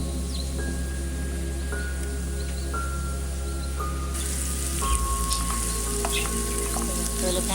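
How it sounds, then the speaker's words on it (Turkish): Onions sautéing in a pan while cooking a cauliflower dish, a loud, steady close sizzle with soft stirring scrapes and a constant low hum underneath. "Soğan ne kadar güzel kavrulursa, pembeleşirse o kadar güzel tat verir yemeğin içinde."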